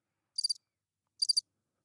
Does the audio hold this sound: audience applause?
no